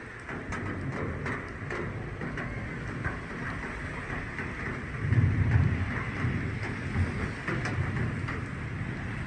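Rain falling over a garden during a storm, recorded from higher up, a continuous broad wash with a brief low rumble swelling midway.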